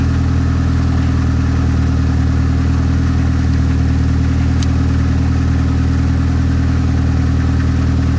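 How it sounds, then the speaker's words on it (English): A jump-started car engine idles steadily and loudly up close, a constant low hum that runs unchanged throughout with no talking. "After the engine is started and is idling and not shutting down"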